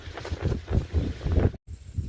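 Strong wind buffets the microphone over a peanut field, rumbling in heavy low gusts that pulse and swell, cutting out briefly before resuming.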